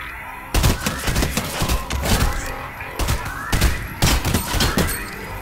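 Rapid video game gunfire cracks out in several close, loud bursts separated by short pauses, with sharp impacts and thuds between volleys.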